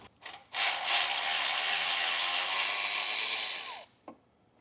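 Ratchet wrench loosening a bolt on a Toyota Tacoma power steering bracket, with a few short clicks and then a steady fast ratcheting buzz lasting about three seconds, close and clear, ending with a final click.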